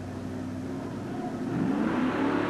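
A Ford truck's engine revs steadily as it pulls a huge 25-ton sled at a 1988 USHRA event in New Orleans, a loud, sustained roar that rises in pitch and volume toward the end.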